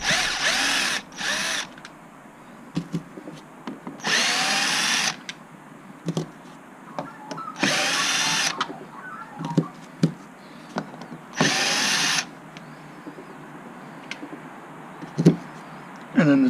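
A power screwdriver takes out the four outer screws on the back plate of a Zip phone during a USB charging port replacement, whirring in four short bursts with clicks and handling noise between them.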